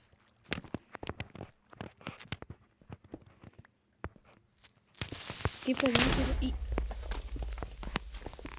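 A creeper explodes in a video game, with a sudden loud burst and a deep rumbling tail after a run of quick footstep-like taps.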